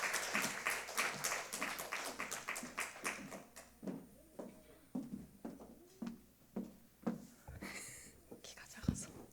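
A church congregation applauding, a spread of scattered hand claps and taps rising and falling in bursts, fairly faint, with murmured voices underneath.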